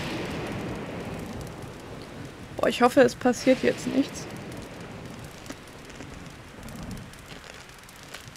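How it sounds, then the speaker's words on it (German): Steady rain hiss with low thunder rumbling throughout a thunderstorm in Zelda: Breath of the Wild, as a voice speaks briefly in the middle over the storm ambience. "Es regnet immer noch. Ja, es gewittert."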